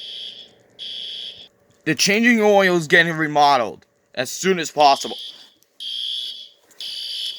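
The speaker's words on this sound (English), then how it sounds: "Oh no, it's a fire alarm." A school fire alarm rings in repeated loud buzzing bursts, with a voice speaking over part of it and the alarm continuing alone between and after the speech.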